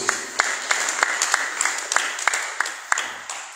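An audience clapping in praise of Jesus at a Yoruba gathering in Akure, Ondo, with a steady, evenly spaced rhythm of claps in unison, moderately loud in a reverberant hall.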